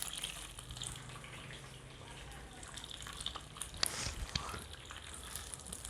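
Chopped onions fry in hot oil, a low continuous sizzle close by with occasional spatters and a clatter of stirring near the end, and a faint voice in the background.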